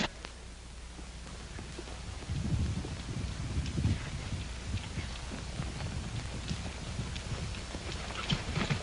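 Horse hooves clip-clop steadily through a 1939 Hopalong Cassidy western scene, a continuous run of hoofbeats at mid distance over a soft hiss of background noise, with no talk.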